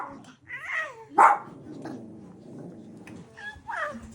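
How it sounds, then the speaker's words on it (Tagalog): A family dog barks and yelps in short, uneven bursts at close range, with one sharp loud bark partway through and softer whiny calls around it. "Kung sino yung kinakahulan ng aming aso, ng aming ada."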